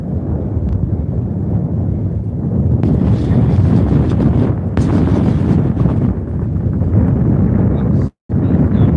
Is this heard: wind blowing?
yes